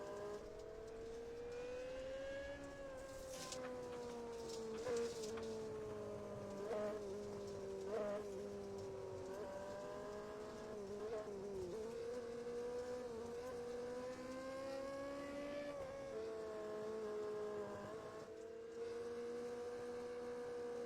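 Onboard a winged micro sprint car racing at Limaland in iRacing, a continuous high-pitched engine drone rising and falling with throttle through the laps, steady and loud with no voices over it.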